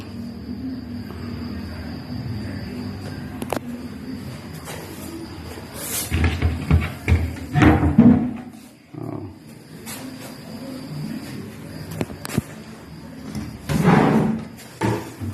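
A drawer in a house unit under renovation and polishing is slid open and shut, giving several close wooden knocks and scraping thumps in bursts, with no talk over them.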